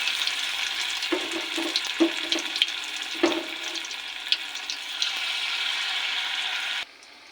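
Cauliflower pakoras frying in hot oil, a steady close hiss with bubbly crackle and a few spoon clinks, ending abruptly into near silence.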